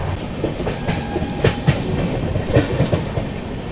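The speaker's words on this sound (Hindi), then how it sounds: "अनुग्रह पी नारायण रोड पर अभी अपनी महाबोधि एक्सप्रेस पहुंच रही है" The Mahabodhi Express pulls into Anugrah Narayan Road station, heard from on board with a steady rumble and rhythmic clickety-clack of wheels over rail joints, no voices.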